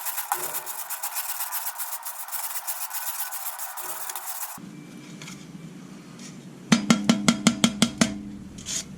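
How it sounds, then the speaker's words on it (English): A metal brush scrapes a greasy grill grate with rapid, rasping back-and-forth strokes up close, followed after a pause by a quick run of sharper, evenly spaced scrapes. "On the next grate, I'm going to scrape it with the metal brush like I usually do"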